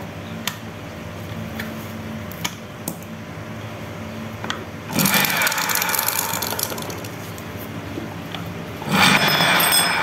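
A water pump motor, freshly fitted with a new bearing, hums steadily, then surges louder with a broad hissing whir as it kicks in, running in two noisy bursts over a low mechanical drone.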